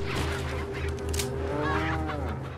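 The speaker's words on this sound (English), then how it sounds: "Look at this last chicken we gonna kill." A chicken clucks in the video game Resident Evil 4, giving a loud, close run of throaty, honking calls over a steady low drone.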